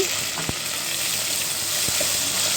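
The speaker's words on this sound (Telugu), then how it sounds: "కొంచెం కొత్తిమీర పుదీనా వేసాను ఇది కొంచెం ఫ్రై అవనిచ్చి" Mint and coriander leaves fry in hot oil in a pan, giving a steady, close hiss with an occasional soft pop or stir.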